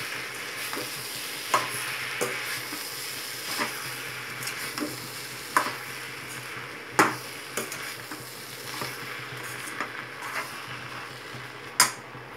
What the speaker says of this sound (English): Now you can stir this.